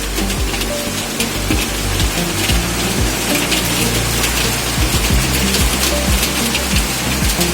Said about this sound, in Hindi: लखनऊ में आज बिजली चमकने के साथ साथ तेज बारिश और ओले भी गिरे